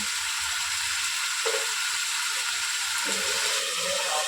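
Fish frying in a pan for a Bengali fish chorchori with potol (pointed gourd), a steady bright sizzle running throughout, close, with occasional soft scraping or stirring knocks.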